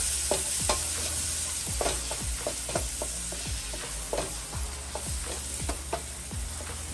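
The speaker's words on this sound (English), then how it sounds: "I want to cook down my onions and my peppers." Onions and peppers fry in hot oil for seafood fried rice, giving a loud, steady sizzle up close with repeated spatula scrapes and stirring knocks against the pan.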